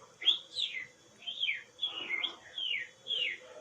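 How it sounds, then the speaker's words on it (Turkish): Birds sing in a series of short, clear whistled phrases, slightly distant, repeating about every half second against quiet background. "Bu arada kuşların sesini de duyuyor olabilirsiniz. Çünkü kuşlar da ötüyor."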